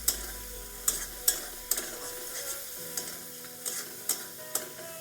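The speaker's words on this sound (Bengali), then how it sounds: "কসুরি মেথি দিয়ে আর একটু কষিয়ে নিচ্ছি।" Masala with kasuri methi fried in oil for a Bengali soya chunk curry, a spoon scraping and stirring the pan in repeated clicks and scrapes over a faint steady sizzle, close and quiet with no talk.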